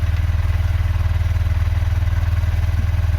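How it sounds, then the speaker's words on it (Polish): A Honda CB125F motorcycle engine runs steadily at idle after the bike has been washed, producing a close, continuous low throbbing with an even rapid pulse and no other sounds. "żeby ten motor wysechł, a właściwie silnik, to odpaliłem go teraz"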